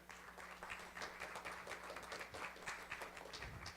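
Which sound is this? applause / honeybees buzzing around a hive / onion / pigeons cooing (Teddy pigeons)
applause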